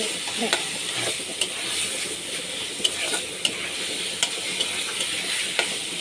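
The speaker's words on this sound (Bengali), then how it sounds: "এটা যে এরকম ভাজা ভাজা করবো এই যে তেলের মধ্যে" Shrimp and green chillies stir-fry in hot oil, giving a steady close sizzle broken by sharp clicks of a spatula scraping and tossing the pan.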